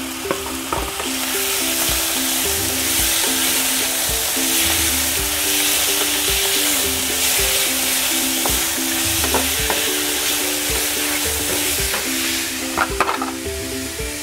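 Squid stir-frying in a hot pan for a sweet and sour pineapple squid dish, a loud continuous sizzle with repeated scraping and clinking of a spatula stirring, steady throughout with no speech.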